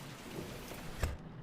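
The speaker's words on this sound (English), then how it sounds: "It's raining outside." Rain falls outside in The Mortuary Assistant, a steady broad wash of noise with a brief low thump near the end, heard alone for just over a second.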